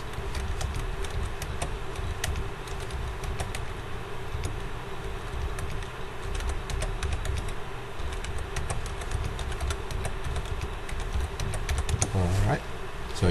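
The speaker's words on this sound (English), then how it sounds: "Okay, I'm gonna type in these 9 numbers." Numbers keyed into a calculator keypad during a statistics problem: a steady run of small, quiet clicks and taps close by, over faint background noise.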